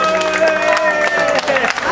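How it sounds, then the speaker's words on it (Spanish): Applause and crowd noise greet an award recipient at a fishing tournament ceremony, loud clapping mixed with voices and background music over a short stretch. "Un fuerte aplauso para Edgar."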